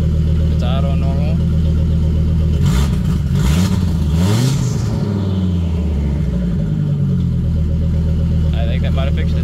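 A Volvo V70R engine idles with a deep rumble, then revs up and down in a few quick throttle blips before settling back to a steady idle, with a person talking over it.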